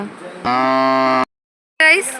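A cow lows twice near a backwater lagoon: a long, deep, steady moo, a short silence, then a second call that breaks off.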